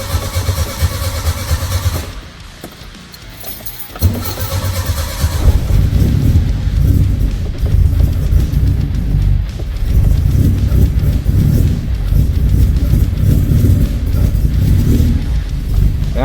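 An old vehicle engine with newly fitted ignition points cranks and catches on its first start of the morning, then settles into a loud, steady, rumbling idle that fills the rest of the clip close up.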